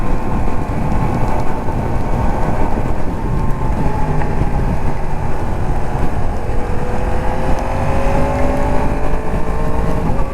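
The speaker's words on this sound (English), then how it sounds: "God damn it, it's raining real good." Heavy rain pours down steadily and loud throughout, a dense constant wash over wind and the low drone of a 2022 Yamaha MT-10 SP motorcycle riding through a thunderstorm.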